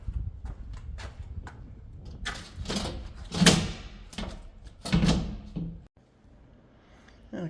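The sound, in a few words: sliding glass door being lifted out of its frame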